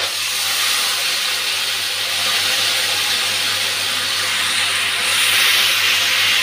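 A spice paste of chilli and turmeric powder hits hot oil with black cumin for a hilsa fish curry, producing a steady close hissing sizzle that swells slightly toward the end, with no talk.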